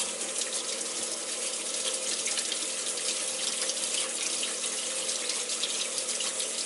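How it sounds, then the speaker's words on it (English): Tap water runs in a steady, close rush into a sink while organic potatoes are scrubbed under it, with no pauses and no voices. "Water on and scrubbing the potatoes."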